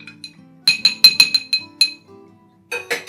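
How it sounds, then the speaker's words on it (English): A spoon clinks against a glass as a cocktail with shrub and fresh orange juice is quickly stirred, a burst of bright rapid taps, a brief pause, then a few more clinks near the end. "You're just going to give this guy a quick stir."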